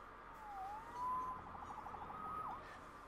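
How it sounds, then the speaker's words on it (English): A police siren in the video game Marvel's Spider-Man wails and yelps in rising and falling sweeps, fairly faint and distant, over a low steady background. "Saved by the siren."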